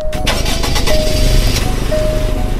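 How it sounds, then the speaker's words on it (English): Engine startup of a Jaguar F-Type in the Bloxwow game, a loud burst of cranking and catching ignition that settles into a steady, buzzing idle with a faint tonal whine throughout. "let's hear a startup on the Jaguar"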